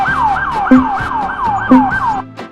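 A loud wailing ambulance siren sweeps up and down in repeated rising-falling cycles, steady and close, with faint road rumble underneath.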